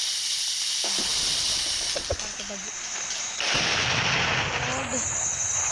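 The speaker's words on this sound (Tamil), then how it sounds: "ஃபஸ்ட்டு நம்ம எப்பயும் இந்த 8 இன்ச் வெடி தான் வெடிப்போம்" An 8-inch firecracker explodes in sharp bursts, with hissing and crackling in between, loud and close.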